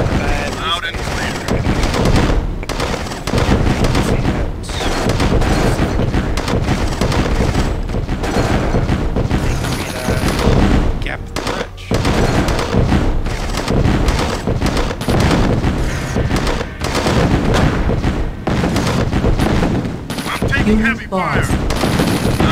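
Gunfire from the real-time strategy game C&C Tiberian Sun, with sustained loud bursts of machine-gun fire and scattered heavier booms, continuous and dense across the whole stretch.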